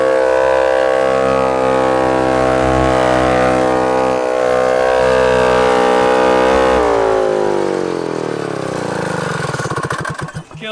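A 1979 FL250 Odyssey go-kart's two-stroke engine with an expansion pipe screams very loud and close in a piercing, steady whine, then its pitch climbs and wavers sharply near the end.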